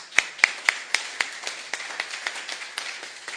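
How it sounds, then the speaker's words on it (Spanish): Sparse, slow applause from a small audience at a classical liberalism lecture session, a dozen or so distinct claps spaced steadily and fading slightly, with no talk over them. "Un aplauso para él."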